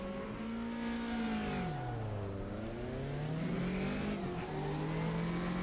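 A BMW 2002 Turbo race car pulls away from the start in Automobilista 2 at Hockenheim '77, its engine revving up through the gears with clear pitch climbs and drops at each shift, loud and close.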